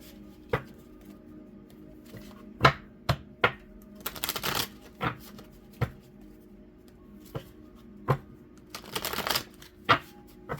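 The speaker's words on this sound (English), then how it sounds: "as I'm shuffling the cards" Tarot cards are shuffled close up in a quiet room, producing sparse crisp taps and slaps plus two short riffling bursts, each a second or so long, over faint background hum.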